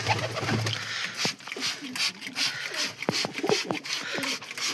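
Pigeons coo softly in a loft, with low murmuring calls and light rustling and scraping as the birds shift about, close and continuous with no speech.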